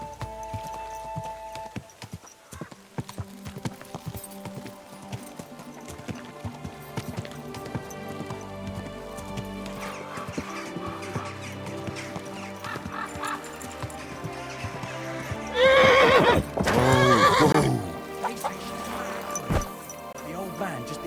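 A horse in Kingdom Come: Deliverance II snorting and neighing loudly while hooves clip-clop, with a voice speaking and background game music, the whinny peaking sharply near the end.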